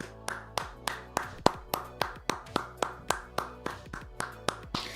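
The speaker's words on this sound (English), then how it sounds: "Round of applause." One person claps hands in a slow, steady rhythm, with about fifteen sharp, close claps spaced evenly and heard clearly with no other sound around them.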